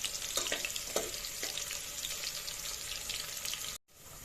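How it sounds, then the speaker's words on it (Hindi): Chopped onion frying in a pan for a chicken curry, a soft continuous sizzle with a few light stirring scrapes early on, fairly quiet, cutting off abruptly near the end. "अब ये प्याज को लाइट ब्राउन कलर आने तक भून लेना है।"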